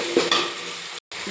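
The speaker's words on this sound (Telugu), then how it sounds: "దాంట్లోకి 1 స్పూన్ వచ్చి అల్లం పేస్ట్ వేద్దాం. బాగా కలుపుకోవాలి నీట్గా." Ginger paste sizzles in a hot pan while a spoon stirs it, a brief close frying hiss with a couple of scraping strokes and a momentary cut to silence.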